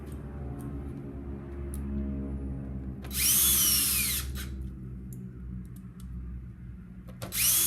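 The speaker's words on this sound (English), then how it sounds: "Careful if you are using an impact drill." A steady low motor hum runs throughout, broken by two loud, harsh bursts of an impact drill driving screws, one long and one brief, up close, while servicing the air filter on a 2003 Honda CBR600RR motorcycle.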